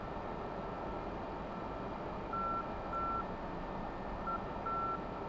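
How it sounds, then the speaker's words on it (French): A faint series of short electronic TACAN beacon identification beeps in a repeating coded pattern, heard in a Mirage 2000C flight simulator cockpit over a constant broad engine-like hiss. "on devrait entendre un bip bip bip pour la fréquence TACAN"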